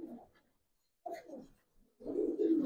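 Soft cooing from silver Lalpaoi Bagha pigeons, three short throaty coos spaced by pauses, close and fairly quiet with no voices.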